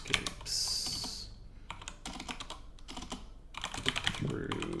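Keys pecked with a pen on a computer keyboard make irregular bursts of close clicks during a tabletop Dungeons & Dragons session, with brief pauses between runs and voices chatting nearby.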